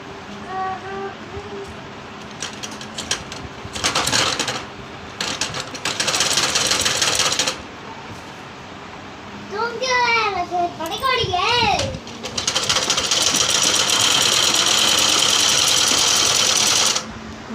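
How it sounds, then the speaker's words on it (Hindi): A sewing machine runs loud in bursts, stitching the lining of a frock, with someone talking over the whirring between and during the runs. "मिला दिया है और अब इस पर सिलाई लगा देते हैं, एक बिट की सिलाई।"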